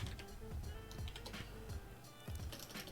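Typing on a computer keyboard, quick irregular key clicks at low level, close and continuous for a few seconds with no talk.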